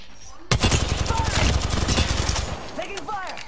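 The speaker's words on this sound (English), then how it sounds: "Taking fire." Rapid automatic gunfire in Apex Legends starts abruptly and keeps up a dense, fast rattle of close shots. It eases near the end, and voices talk over the firing.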